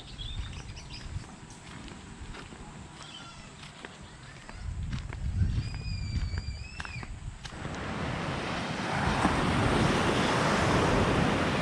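Ocean waves roll onto the north beach of Gili Meno, Indonesia, with soft surf and wind at first and birds chirping now and then; the surf grows into a louder, fuller wash toward the end.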